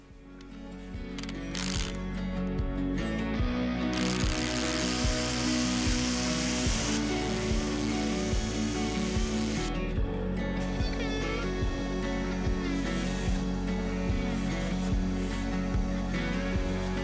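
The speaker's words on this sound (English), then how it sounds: "we're just going to drill some pilot holes using a long thinner drill bit" Drill boring pilot holes into wood with a long, thin bit while preparing lumber for a cabin: a steady, loud motor whine runs throughout, with repeated thumps and rattling bursts as the bit bites and catches.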